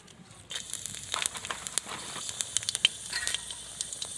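Bay leaf, chili and whole spices sizzle in hot oil in a wok, making a soft continuous hiss. Sharper crackles and pops break through it, with no voices.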